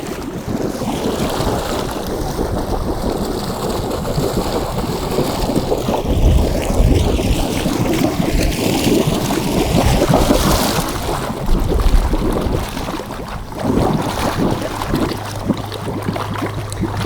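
Air and water burst out of a pool return line in a loud, turbulent gushing and bubbling rush that churns on steadily close to the microphone.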